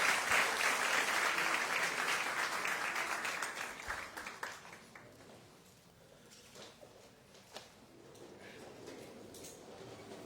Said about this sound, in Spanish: Nos despedimos con un aplauso de bendición.